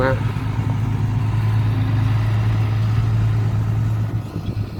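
A six-cylinder engine runs steadily at a constant, mid-pitched drone, close and fairly loud, while someone talks over it.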